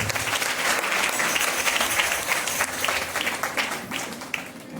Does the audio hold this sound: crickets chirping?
no